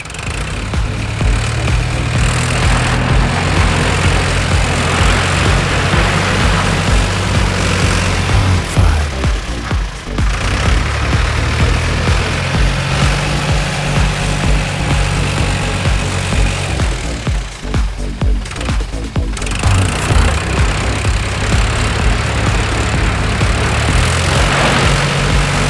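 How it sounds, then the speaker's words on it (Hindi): A big tractor engine drones steadily and loudly for a long stretch, a constant low mechanical hum with slight shifts in pitch and no voices. "वाह हमें मिला बिग ट्रैक्टर। चलो इसको स्टार्ट करेंगे गाइस।"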